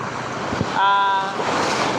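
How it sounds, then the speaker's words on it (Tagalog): Strong sea waves break and wash along the beach at Sto. Domingo, Ilocos Sur, as a steady close rush of surf mixed with wind buffeting the microphone, with a brief tonal sound partway through. "malakas yung alon ngayon"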